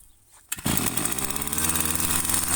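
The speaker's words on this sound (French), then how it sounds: "c'est vraiment une vidéo comment démarrer une débrousse. Elle est chiante à démarrer." Brush cutter engine starting with a sharp pull-cord yank, then catching and running loud and close with a steady buzzing two-stroke drone that rises slightly.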